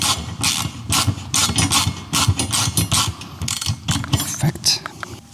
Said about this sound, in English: Take off this bolt here.